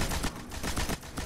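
Rapid automatic turret fire in the Destiny video game, loud repeated shots in a steady rattling rhythm with slight dips between bursts.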